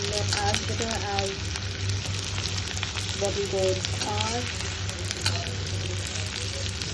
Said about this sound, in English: So we're going to keep frying them until we get all of the karelas in this shape.